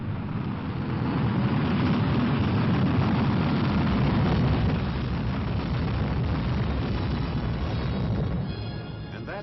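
Failed Vanguard rocket launch explosion, a sustained rumbling roar that builds and holds for several seconds before tapering off, heard on a vintage narrow-band recording.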